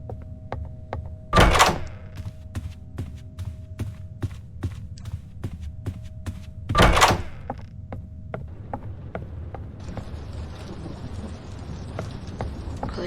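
Two heavy knocks on a door in the Roblox horror game DOORS, spaced several seconds apart over a low ambient hum, with faint clicks and a rising hiss near the end.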